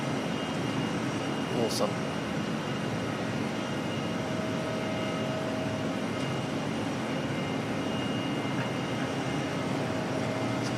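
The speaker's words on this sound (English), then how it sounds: "Should see the A380 coming out now." A Singapore Airlines A380 jet departs Auckland Airport, a broad, steady roar of jet engines heard from a distance, holding constant for the full stretch, with a brief spoken remark near the start.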